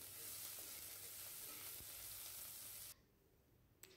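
Onion hitting hot oil in a pan for a fish and potato curry, a loud, dense, close sizzle that holds steady for about three seconds and then drops sharply to a faint hiss.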